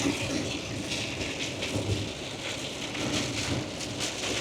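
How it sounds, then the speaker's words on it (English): Heavy rain drums steadily on a van roof in Caithness, Scotland, a dense, loud, unbroken hiss with pattering impacts and no talking. "Now that is rain."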